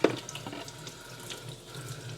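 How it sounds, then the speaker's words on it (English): Tap water runs steadily into a sink as apples are washed under it, a continuous close splashing with small knocks, no voices. "gonna wash the apples really good for us"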